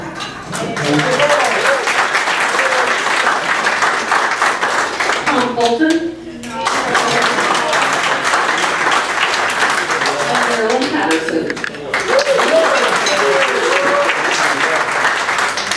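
Lions Club members clap for the Lion of the Year nominees at an officers' installation, sustained applause with a brief dip partway through, while a speaker's voice is heard over the clapping at points.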